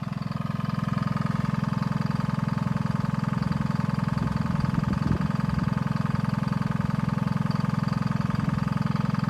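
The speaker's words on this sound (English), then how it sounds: "We'll just let it idle a little bit. That's what it sounds like at idle." A Detroit diesel engine idling steadily, a loud, continuous low rumble with an even rhythmic throb that holds unchanged throughout, close by and with no voices.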